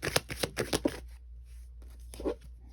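A deck of tarot cards being shuffled up close, a run of quick papery riffling slaps for about a second, then quiet and one brief softer shuffle.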